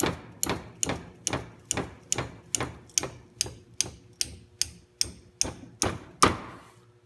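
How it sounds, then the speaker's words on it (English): A run of about fourteen sharp hammer blows on a plastic locking pin held in a vise, at a steady rhythm, each a crisp knock, with the last one slightly louder. "I'm going to hit it with the hammer just to show you how strong it is"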